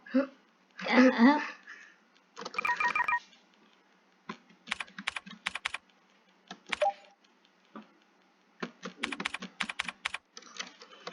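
Keys clatter on a computer keyboard during Hancom typing practice, arriving in quick bursts and scattered taps with pauses between them, and a voice talks at the start.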